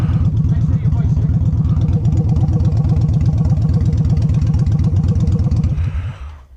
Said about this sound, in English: Let the engines cool down.